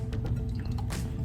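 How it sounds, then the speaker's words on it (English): Canned pears with their syrup slosh and drip from the can into a bowl, a short, close, wet pour with soft splashing and no talking. "I'm going to take this whole can of pears and I'm going to pour it into my bowl."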